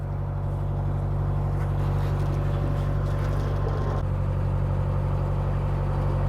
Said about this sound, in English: And here's another boat.